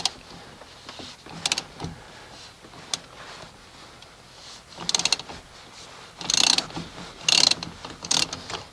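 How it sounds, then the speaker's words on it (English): A ratchet fitted with a 14 mm socket loosens the steering wheel nut on a 1988-1998 Chevy K1500, giving sharp clicking bursts that grow louder and denser toward the end, with faint metallic handling and no speech. "I'm going to take a 14 millimeter socket, and I'm going to try to do this one-handed."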